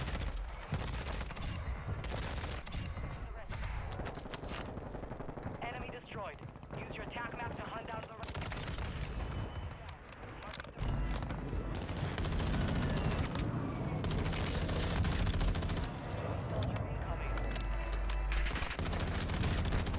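Rapid automatic rifle fire from a Tempus Razorback in Warzone 2, dense overlapping bursts and explosions running continuously and loud, with a voice talking over the shooting.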